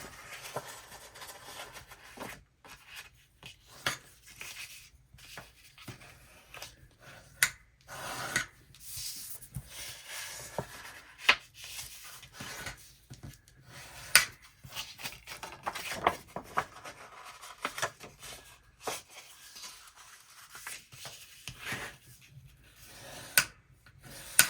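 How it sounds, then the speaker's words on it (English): Folded cardstock score lines being burnished, giving a soft, close rubbing and scraping of a tool sliding along paper in uneven strokes, quiet throughout with small taps between passes. "we are going to burnish at those score lines"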